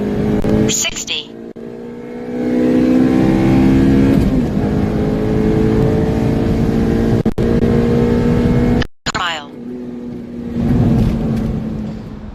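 An 8th gen Honda Civic Si engine revs hard and climbs steadily through the gears on a stock quarter-mile run, loud and close, with a short break near the end as it shifts, and voices talking over it.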